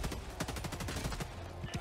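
Turrets in the video game Helldivers 2 fire a rapid, steady burst of gunfire, dense overlapping shots rattling for the whole moment at a fairly even loudness.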